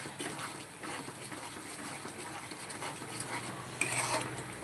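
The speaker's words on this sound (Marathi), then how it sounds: "पनीर मसाला वगैरे सगळं टाकून तळत आहे मसाला" Paneer and masala spices frying in a pan, a faint, steady sizzle with light stirring and occasional soft clinks of a utensil, close and quiet.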